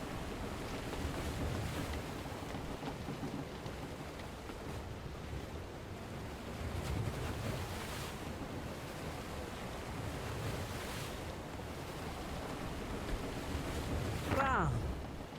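Ocean waves wash steadily around a sailing ship in the Ruined King video game, a continuous broad surf roar with gentle swells and a brief creak near the end.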